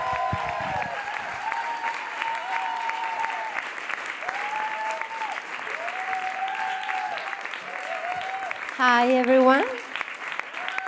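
An audience applauds a performer at a live show, with steady clapping filling the room under a speaker's voice, then a short swell of cheering near the end.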